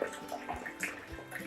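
A water pump switched on by an Arduino level controller fills a tank, producing a faint, continuous splashing and trickling rush of water with no talk.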